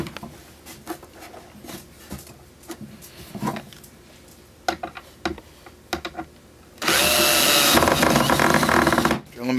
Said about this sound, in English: Drill them back in.